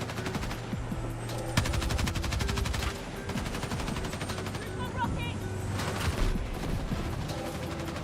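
Rapid turret machine-gun fire in a video game, with dense bursts running almost the whole time, loud and close, with a brief lull partway through.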